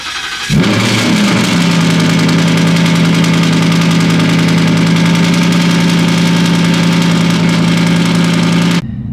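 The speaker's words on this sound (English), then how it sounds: "Cold start time." A car engine cold-starts with a sharp crank and catch, then settles into a loud, steady, close idle with a constant low hum that runs unbroken until it cuts off abruptly.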